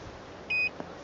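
A single short electronic beep sounds as a card is scanned at an EV charge point, clear and close over quiet background, followed by a faint tick.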